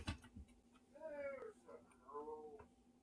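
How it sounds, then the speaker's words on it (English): A cat gives two drawn-out meows close by, each rising then falling, following a few soft ticks and knocks in a quiet room. "Zukov, don't fuck around with the cat"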